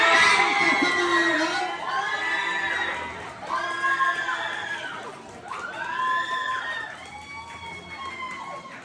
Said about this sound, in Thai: ขอเสียงปรบมือให้กับเบลล่ากุศลินด้วยครับ